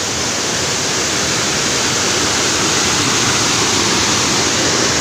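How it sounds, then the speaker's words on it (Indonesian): The Batu Lapis waterfall roars with a loud, steady, broadband rush of falling water, close and unbroken, with no other sounds. "air terjun Batu Lapis yang akan saya lakukan penelusuran nanti malam."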